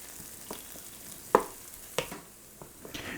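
Vegetables sauté in a hot pan while a pork chop dish is prepared, a soft sizzle broken by a few sharp clacks and scrapes of a utensil stirring against the pan.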